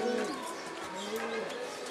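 A pigeon coos nearby in a soft, low, rolling call repeated across a couple of seconds, heard fairly quietly against a faint background.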